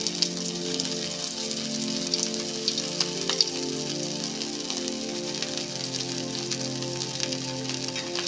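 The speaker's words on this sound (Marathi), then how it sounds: "हे राहिलेले सगळे आहेत ना ते आपण असे शॉलो फ्राय करून घेणार आहे" Potato patties shallow fry in oil in a pan, a continuous close sizzle with scattered small pops and crackles throughout.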